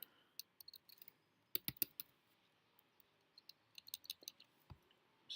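Computer keyboard keys clacking as Swift code is typed, heard as sparse, quiet clicks with short bursts of quick keystrokes and pauses between them.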